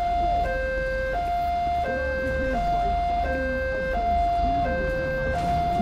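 A police vehicle siren in GTA V with the LSPDFR mod wails steadily between two alternating tones over a low engine rumble. The siren is continuous and fairly loud.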